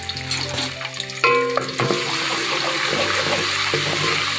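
Garlic ginger paste sizzles steadily in hot oil in a pan for chicken matar keema, giving a continuous near frying hiss. A few clinks and stirring scrapes sit on top of it.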